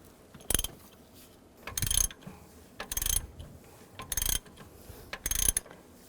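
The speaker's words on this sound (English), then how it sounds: "As I tighten it, it's going to pull the pulley right out." A puller tool being tightened to draw the crank pulley and harmonic balancer off a 2000–2013 GMC Yukon engine, heard as five or six separate loud ratcheting bursts with short pauses between, close and with no talk.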